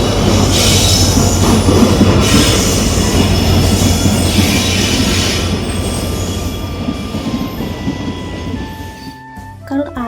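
A crowded Indian suburban train rolls along at a busy station, with loud, steady rumbling and squealing wheels that fade gradually toward the end, leaving brief quieter clatter and faint tones.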